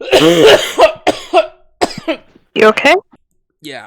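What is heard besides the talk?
person coughing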